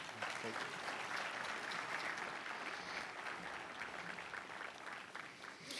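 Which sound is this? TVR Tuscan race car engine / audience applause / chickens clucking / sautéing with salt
audience applause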